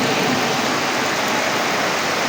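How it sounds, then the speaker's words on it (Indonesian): Heavy rain pours down in a steady, loud, broadband wash that holds unbroken throughout, with no voices over it. "Jangan sampai hujan lebih keras dari saya ini."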